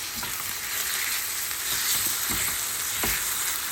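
Chopped tomatoes frying with onions in a pan for a red beans dish, giving a steady, close sizzle with occasional stirring clatter throughout.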